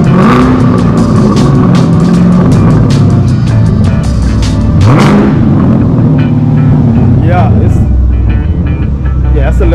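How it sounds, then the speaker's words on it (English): A Gen 6 Chevrolet Camaro SS V8 with its secondary catalytic converters deleted revs loudly and close up, rising and falling steadily, while people talk over it. "rev it up"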